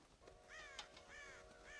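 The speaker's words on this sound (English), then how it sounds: "God damn crows!" Crows caw in Red Dead Redemption, giving several harsh calls in quick succession near a farm silo, fairly faint over quiet game ambience.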